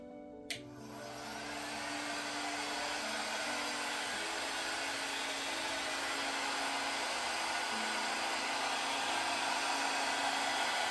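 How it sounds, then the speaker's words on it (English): A small travel hair blower runs on its low setting, switching on with a click and then holding a steady, close, whooshing drone for the rest of the stretch as it blows out fluid acrylic paint. "I'm gonna put my little travel blower on low."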